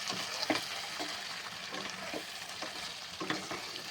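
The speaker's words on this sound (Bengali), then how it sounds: "এইভাবে এখনো কষাতে থাকবো।" Mutton sautéed in oil for mutton kasha, steady soft sizzling frying with repeated scraping stirs of a spatula against the pan, close and fairly quiet, no talk.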